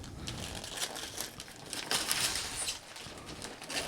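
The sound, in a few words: unwrapping a gift box's wrapping paper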